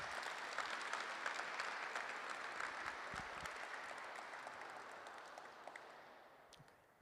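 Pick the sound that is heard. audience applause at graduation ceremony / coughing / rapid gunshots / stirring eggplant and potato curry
audience applause at graduation ceremony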